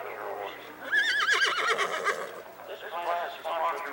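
At a horse show, a horse gives a loud, wavering whinny lasting a couple of seconds, followed by a second shorter whinny, over faint hoofbeats.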